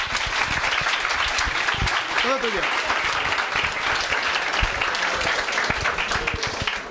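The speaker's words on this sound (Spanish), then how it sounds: "Y sin más, un aplauso" Audience applause fills a pub as a speaker is welcomed, a steady dense clapping that runs throughout with crowd noise and a brief spoken voice over it.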